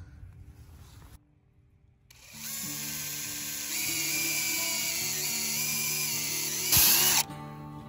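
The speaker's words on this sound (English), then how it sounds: "you want to drill at a slight upward angle so that things flow down outside of the spout" A power drill with a 1.5-inch bit bores a tap hole into a maple tree, starting after a short pause, its whine building and then holding steady under load, rising sharply just before stopping.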